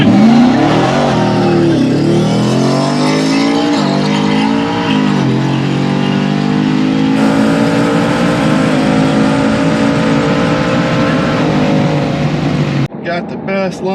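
A Chevrolet C8 Corvette launches hard in a drag race, its engine roaring loud and close as revs climb steadily through the gears, with a voice talking over the run before it cuts off abruptly.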